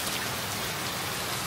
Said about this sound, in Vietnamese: mưa tới luôn rồi đó nha